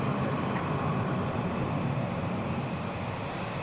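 Aircraft engines roar steadily at DFW International Airport during runway departures, a broad, loud, continuous drone with no voices over it.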